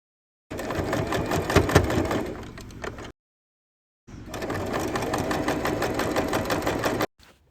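A sewing machine stitches a sling bag strap half a centimeter from the edge in two close, steady runs of rapid mechanical whirring, separated by a short silent pause.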